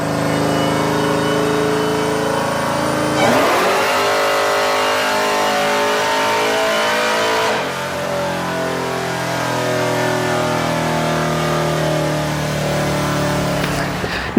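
A 6.0L LS V8 with a Hellcat supercharger makes a loud, sustained dyno pull, revving hard for about fourteen seconds with a shift in tone midway and no voices over it.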